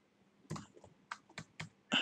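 Several quick, faint keystrokes on a computer keyboard come as separate clicks spaced unevenly over about two seconds, with a quiet room between them.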